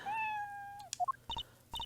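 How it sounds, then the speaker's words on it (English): A cat meows in a short rising-then-falling call, followed by a couple of quick chirps and a few bright, clipped game-style blips, all close and clear with no talking. "Hey, a kitty cat."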